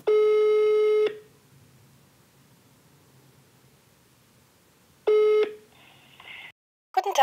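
Telephone call to a psychotherapy practice, two long electronic ring tones about four seconds apart on a quiet line, followed by a short click and a brief burst of noise as the line connects.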